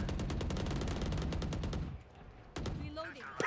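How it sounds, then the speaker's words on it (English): Rapid automatic gunfire in the shooter game Valorant, a dense stream of close shots lasting about two seconds, then a brief pause before a few more bursts, with a faint voice near the end. "He's shooting."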